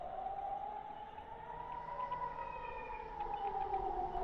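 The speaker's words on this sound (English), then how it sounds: "I got all kinds of sirens going off right now" Several sirens wail continuously at a distance, their pitches rising and falling and overlapping against a steady background hum.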